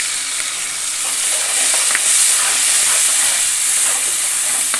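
Masala fries with tomato paste for a spicy katachi amti curry, a steady close sizzle with soft scraping as it is stirred in the pan, and no talk.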